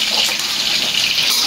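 Water pours steadily into a cooking pot of squid adobo, a loud, close, continuous gushing stream with no talk over it.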